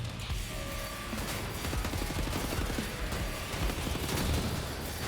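Rapid gunfire and shotgun blasts in Wolfenstein The New Order on a stairway, steady and dense throughout, with bursts overlapping and no talk.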